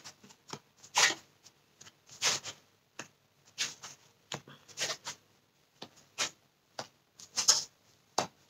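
Tarot cards being shuffled by hand before a reading, brisk riffles and soft slaps arriving in irregular bursts with quiet gaps, close up and without any talking.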